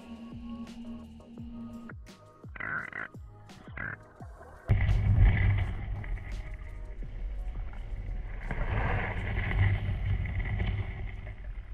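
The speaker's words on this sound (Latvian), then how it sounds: "Kā var dzirdēt fonā, atpūtas laivas brauc garām nemitīgi" Recreational motorboats pass by on Lake Alaušas in Lithuania. Scattered knocks and clicks come first, then a steady engine drone swells in and keeps rumbling in the background for the rest of the stretch.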